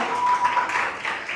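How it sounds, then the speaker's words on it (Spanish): A church audience claps in a short burst of dense, fairly close applause lasting just over a second. "Un aplauso para mis queridos talentos humanos."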